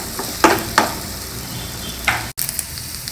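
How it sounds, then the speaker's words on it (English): Onions and radish fry lightly in a pan for a South Indian sambar, a steady broadband sizzle with a few sharp stirring scrapes and clinks, close and moderately loud, no talking. "Lightly fry the onions and the radish"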